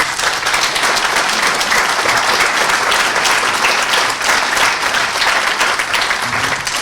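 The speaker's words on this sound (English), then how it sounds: "Could you give Wendy a round of applause?" Loud, continuous applause from an audience at the launch of the book Cúchulainn, Ulster's Greatest Hero, a thick, sustained roar of clapping that fills the whole stretch without pause.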